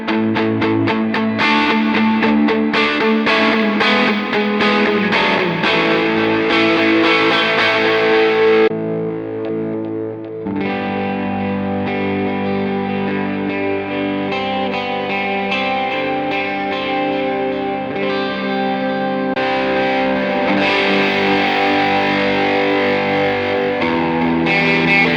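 Electric guitar played through a single worship multi-effects pedal preset, heavy delay and reverb washing sustained chords and repeating notes; loud and continuous, with a brief thinning near the middle before the full ambient swell returns.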